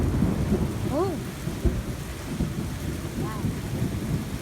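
Rain pours steadily in a lightning storm with a low rumble of thunder underneath, while faint whistle-like chirps rise briefly twice over the wash.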